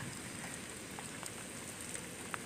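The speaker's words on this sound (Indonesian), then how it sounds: "Karena kan hujan." Rain falls on an outdoor rice field setting, a faint, steady patter of drops with a few sharper individual hits standing out now and then, quiet and continuous.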